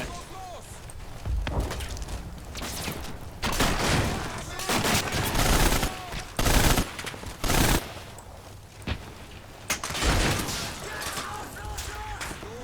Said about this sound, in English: Yep, we've got heavy machine guns up there.